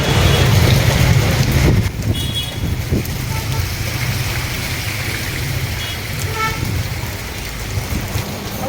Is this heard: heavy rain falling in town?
yes